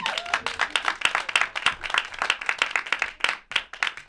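Applause at a comedy show, a moderately loud burst of individual claps with a choppy, uneven rhythm that carries on steadily for several seconds.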